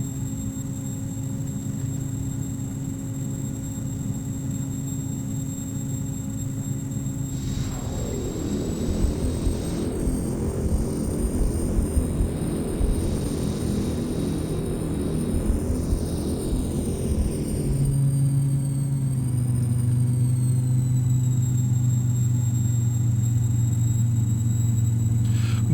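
Carenado King Air 350i twin turboprop landing in the Prepar3D flight simulator: a steady engine drone with a high whine, joined by rumbling wheel and runway noise at touchdown, then a shift in engine tone as the aircraft rolls out.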